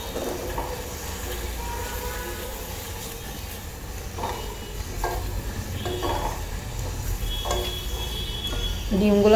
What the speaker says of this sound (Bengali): ডিমগুলোর সাথে মশলাগুলো ভালো মতো কষিয়ে নিব।